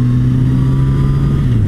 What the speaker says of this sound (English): I like riding down this road on the motorcycle